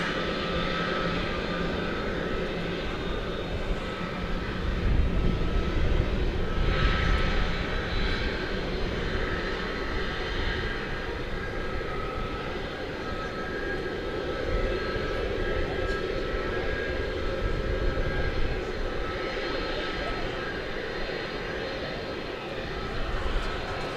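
Jet airliner taking off at night at DFW Airport, a broad continuous engine roar swelling and then holding steady for about twenty seconds, distant but strong, with no talking.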